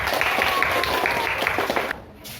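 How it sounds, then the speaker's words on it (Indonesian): Classroom applause during a physics lesson on mechanical waves, a steady broadband patter of many hands clapping with a voice talking over it, fading out near the end. "Dan beri tepuk tangan buat kita semua."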